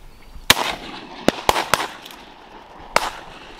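Shotgun blasts at ducks during a Minnesota duck hunt, five sharp, loud shots spread irregularly across the clip, two close together in the middle, over quiet outdoor background.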